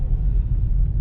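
Road traffic on a Saudi Arabian street makes a steady low rumble of car engines that fills the short stretch without a break.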